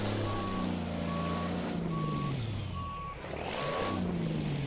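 A logging truck backing up in a driving simulator, its reversing alarm beeping steadily about five times over a low diesel engine rumble, with a hiss of air near the end.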